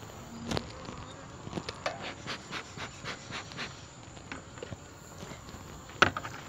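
Honey bee foragers buzzing around a hive, a steady droning hum with bursts of louder passes close by, plus light rustling and a sharp knock near the end.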